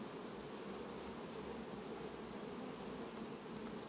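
Honey bees drone steadily at an open hive during an August colony inspection, a dense, continuous buzz heard close and alone with no talking.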